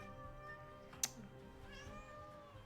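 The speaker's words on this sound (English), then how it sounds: "That's my cat." A pet cat gives a couple of faint, drawn-out meows against a quiet room hum, with no one talking.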